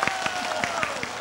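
An audience at a weekly cải lương singing contest semifinal claps steadily, with a dense patter of hands continuing for the whole moment, close and fairly loud.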